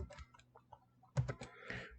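Typing on a computer keyboard that is malfunctioning, a few soft scattered key clicks followed by a louder burst of taps near the end, quiet and close.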